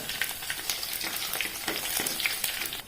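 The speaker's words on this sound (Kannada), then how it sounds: "ಸಾಸಿವೆ ನೋಡಿ ಚಟಪಟ ಅಂತ ಹೇಳ್ತಾ ಉಂಟು." Mustard seeds and crushed garlic frying in hot oil in a pan, giving a dense, steady sizzle with quick crackling pops, close and continuous.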